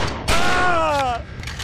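A 9mm pistol shot in the video game XIII gives a sharp crack followed by a ringing, descending metallic tone that fades after about a second, loud and alone.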